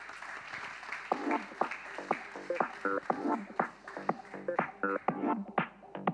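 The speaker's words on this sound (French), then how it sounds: "Je vous invite à les applaudir chaleureusement." Audience applause for award winners at the Grand Prix Stratégies du Retail Media 2024 ceremony: a steady, moderately faint crowd clapping with voices mixed in throughout.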